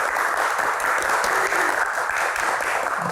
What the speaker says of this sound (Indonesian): Tepuk tangannya mana teman-teman?